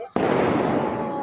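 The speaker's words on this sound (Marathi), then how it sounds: "हे बघा बॅट्स उडाले तिकडचे कारण इतके मस्त फटाके वाजताय." New Year fireworks and firecrackers burst in a sudden loud onset, then a dense, continuous crackling roar of rapid pops that carries on for the rest of the moment.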